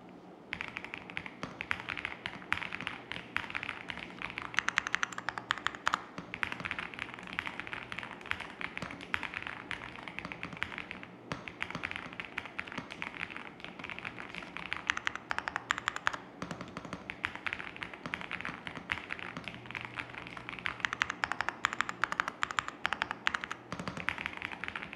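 A Xinmeng M75 Pro mechanical keyboard is typed on without pause for about twenty-five seconds, a dense, even stream of close clacking keystrokes with no talking.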